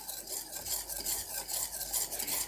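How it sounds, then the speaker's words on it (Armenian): A spoon steadily stirring a thick caramel mixture for honey cake in a pot, with repeated rhythmic scraping and soft sticky swishes, close and fairly quiet, no talking. "Մոտավոր դրա համար մի 30 րոպե ես այդպես խառնում եմ երկար, որ ինքը ստանա կարամելնի իրիսի գույնը։"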